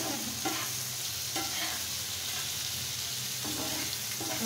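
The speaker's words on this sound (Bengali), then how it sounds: "এখন আমি এটাকে খুব সুন্দর করে ভেজে নেব বিটরুটটাকে, যেন কাঁচা ভাবটা দূর হয়ে যায়" Grated beetroot frying in a pan while being stirred for noodles, a steady close sizzle with periodic scraping strokes of the spoon, no voices over it.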